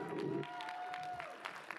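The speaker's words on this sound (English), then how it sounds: "We're now going to give a final round of applause for all of you" Crowd at a graduation ceremony for ethnic, gender and disability studies applauding the graduating students, a soft, distant patter of clapping with a faint voice underneath.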